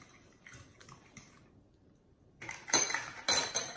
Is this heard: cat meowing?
no